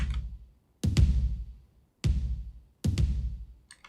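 Raw, unprocessed electronic kick drum hits with a boosted mid and high, three groups of deep booming thumps, some doubled, each decaying into silence, with no talk.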